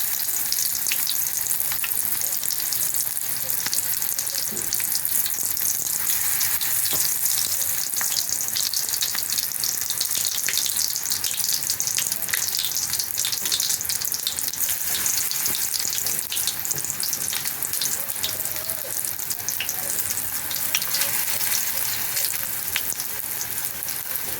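Okra and mint deep-frying in a generous amount of hot oil, a dense, steady sizzle that stays loud and unbroken throughout with no voices.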